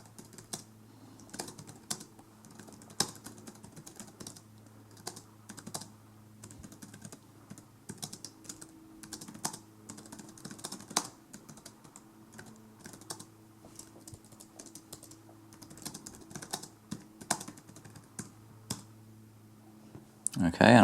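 Close, steady typing on a computer keyboard, a quick irregular stream of key clicks over a low background hum, entering text for app buttons, with no talking.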